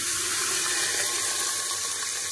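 Chopped bottle gourd pieces poured with their soaking water into a pressure cooker, a steady close splashing rush of water, fairly loud and continuous throughout.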